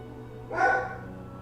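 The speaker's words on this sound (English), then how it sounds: "Can't have her barking in the back of the live stream." A single short dog bark or yip from indoors, a pet reacting to something seen through partly open window blinds, heard once at moderate distance against a quiet room hum.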